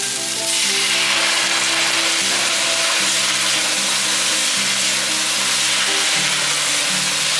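Shiitake mushrooms and cabbage stir-fry in a pan. Mushroom soaking water goes in, and a loud, steady sizzle bursts up almost at once and keeps hissing evenly throughout, with faint stirring beneath and no talk.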